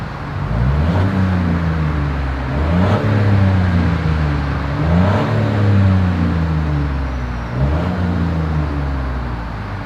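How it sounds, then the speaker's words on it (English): A 2021 Chevrolet Trailblazer's dual exhaust rumbles deeply as the engine revs up and down in repeated surges, loud and close, with a throaty burble between pulls. "As always, here is that exhaust clip."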